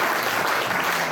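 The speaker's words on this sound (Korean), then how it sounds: "오늘 강의를 맡으신 강사님께 감사의 박수" Dense applause from a seated audience at a pastors' forum lecture, an even wash of many hands clapping at once, loud and steady throughout the brief moment.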